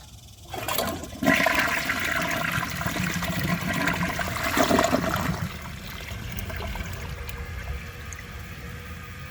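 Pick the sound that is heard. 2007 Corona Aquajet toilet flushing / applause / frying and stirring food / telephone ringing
2007 Corona Aquajet toilet flushing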